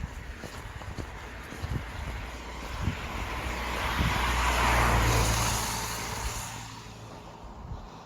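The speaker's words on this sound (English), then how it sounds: "ever since I said that, it's been a non-stop succession of cars" A car approaches and passes on a quiet country lane north of Eccup near the Harewood Estate, its tyre and engine roar swelling to a peak mid-way then fading, with steady wind buffeting the microphone throughout.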